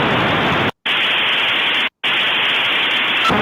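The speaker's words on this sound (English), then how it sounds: "that's what we call white noise" Steady broadband white noise played as a demonstration, loud and flat across the range, with two short silent gaps splitting it into three bursts and no voices.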